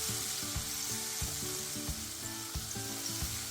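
Pieces of paneer tikka sizzle in a pan as they are gently flipped and fried, a soft steady crackle with a few light taps of the turning utensil and no talking.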